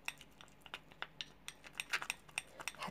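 A small spoon clinks against a small bowl while stirring an oil mixture, making a faint, irregular series of sharp ticks and taps that quicken toward the end, with no speech.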